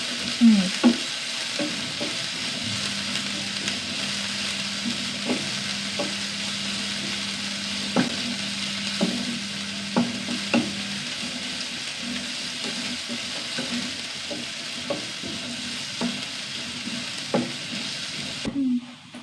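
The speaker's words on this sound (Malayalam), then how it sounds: "ഉള്ളിയൊക്കെ നന്നായി വഴണ്ട് വന്നു" Sliced onions sauté in a pan with a continuous sizzle, broken by scattered knocks and scrapes as they are stirred, close up and fairly even throughout.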